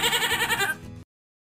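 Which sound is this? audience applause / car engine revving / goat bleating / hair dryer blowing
goat bleating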